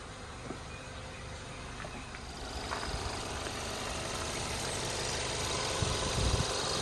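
A 2018 Ford Edge's 2.0 liter four-cylinder EcoBoost engine idles quietly and smoothly, a low steady hum with faint clicks and light handling noises near the end, no voices.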